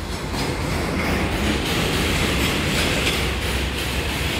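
A New York City subway 2 train rolls past an elevated overpass near the Junius Street and Livonia Avenue stations with a loud, steady rumble, clattering wheels and faint squeals, heard close with no talking.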